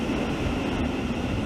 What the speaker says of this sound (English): the class 700 Desiro City